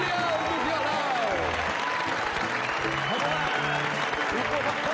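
A rodeo crowd applauds in a countryside TV drama scene: a broad, continuous clatter of many hands, with voices and tonal music or singing woven through it at a steady, moderately loud level.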